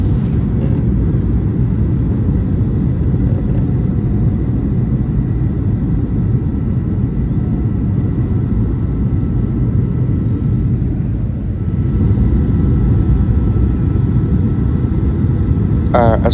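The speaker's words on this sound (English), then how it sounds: "As we are gradually descending in preparation for landing" Steady cabin rumble on a Max Air airliner descending toward landing on a flight from Abuja to Kano, a loud, even engine drone with no breaks throughout.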